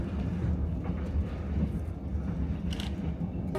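An overnight train rolls steadily along the rails in Vietnam, a continuous low rumble heard from inside the carriage, with faint clattering and no talk.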